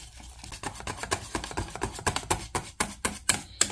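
Coconut milk batter is whisked in a bowl, a quick, steady run of close clicking taps that speeds up slightly toward the end, with no voices over it.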